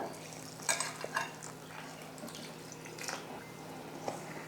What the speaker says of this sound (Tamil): தண்ணி சேர்த்து கட்டி இல்லாமல் கலந்து விட்டுடலாம்